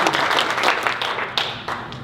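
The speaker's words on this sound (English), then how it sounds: "round of applause for Kendrick." Seminar audience gives a round of applause: a close, thick burst of many hands clapping at once, steady and loud over about two seconds.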